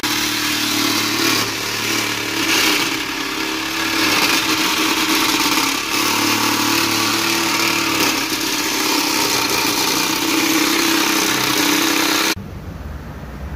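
A saw cuts through a car's exhaust to remove the catalytic converter, making a loud, steady grinding whine that holds for about twelve seconds and then stops abruptly.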